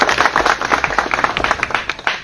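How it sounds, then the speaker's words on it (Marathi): Dense, lively clapping from an audience at a political joining event, close and sustained without pause for a couple of seconds. "सगळ्यांनी टाळ्या वाजवून साथ द्या."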